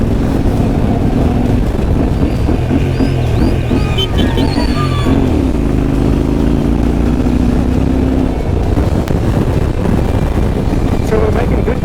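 A Yamaha Tenere motorcycle riding past a small rural settlement in Limpopo, South Africa, with a steady engine drone under heavy wind buffeting on the microphone and faint background voices throughout.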